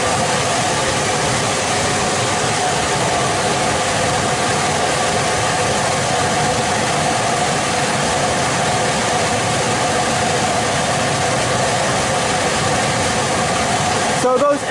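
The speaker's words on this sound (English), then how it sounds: "I'm going to power the fan up now" An air extraction fan for an asbestos decontamination enclosure runs with a loud, steady, broadband roar and hum, unchanging for the whole stretch, with a brief clatter at the very end.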